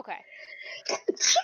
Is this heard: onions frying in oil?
no